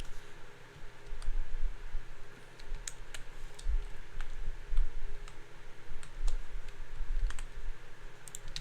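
Fingers type on a computer keyboard in a quiet room, a steady run of light clicking keystrokes with a few sharper taps, close and fairly soft.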